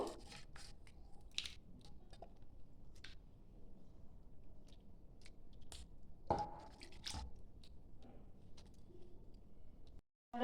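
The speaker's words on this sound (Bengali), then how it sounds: "আমি পরিষ্কার জল নিয়েছি, আবার এটা ধুয়ে নেব।" Flour dough is squeezed and washed in a bowl of water, making faint, irregular wet squelches and small splashes with a few sharper clicks, heard quietly and alone before a brief silence at the end.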